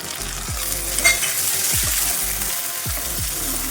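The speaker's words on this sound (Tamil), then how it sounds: "ஸோ இதை கொஞ்சம் வதக்கி எடுத்துக்கிறேன்" Bitter gourd and tomato sizzle in a pan for a South Indian stir fry, giving a continuous frying hiss with a few low thuds and scrapes from stirring.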